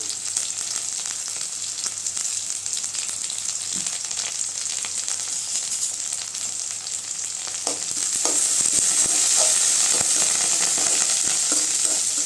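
Dried red chillies and curry leaves frying in hot oil for a banana flower stir-fry, a constant crackling sizzle that jumps louder and brighter partway through, as if fresh leaves hit the oil, with faint stirring.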